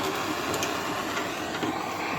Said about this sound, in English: And then kitchen torch to apply some heat.